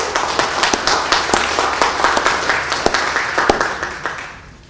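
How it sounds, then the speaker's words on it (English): A forum audience on development in Teaneck gives a sustained round of applause, with steady, fairly loud clapping and sharper individual claps standing out before it fades at the end. "we'll give a round of applause to everyone"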